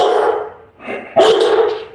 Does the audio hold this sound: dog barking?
yes